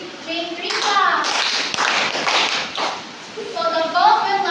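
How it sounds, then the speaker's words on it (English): A classroom of children claps together for a classmate who answered correctly, a burst of close, loud hand claps with children's voices and talk around it. "Let's give Jane 3 claps."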